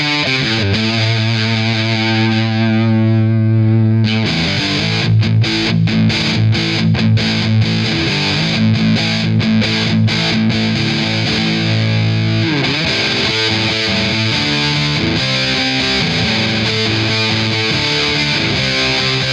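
An electric guitar played through a Behringer UD300 grunge distortion pedal gives loud, fuzzy, saturated chords and riffs, with a few choppy muted strums partway through before sustained distorted notes ring out, with no talking.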